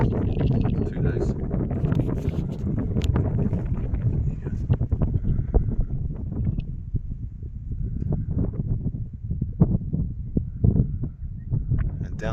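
Strong wind at Mt Remarkable pounds the microphone with a steady, loud low roar, easing slightly midway before gusting again, close and continuous.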